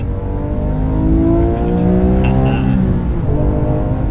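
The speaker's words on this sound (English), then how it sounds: "that's just revving" A car engine revs hard for several seconds, its pitch climbing in long sweeps before settling into a steady high drone. It is loud and close throughout, with a faint voice in the background.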